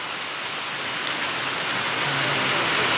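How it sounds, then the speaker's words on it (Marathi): Heavy rain pours down in a village during a storm, a steady, loud, dense hiss of drops with no gaps and no voices. "किती छान पाऊस पडतोय।"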